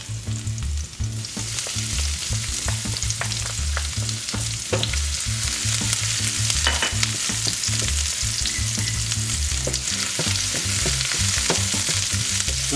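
Garlic and onion sizzle in hot oil with a dense, crackling hiss and scattered pops, close and steady, with occasional stirring clatter and no voices.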